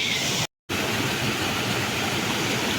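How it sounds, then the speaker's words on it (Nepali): A jungle stream rushes steadily on a hike, a loud, dense broadband wash of flowing water close by, broken only by a brief cut-out near the start. "जति मासतिर गयो त्यति राम्रो खोला नालाहरू आउँदैछन्"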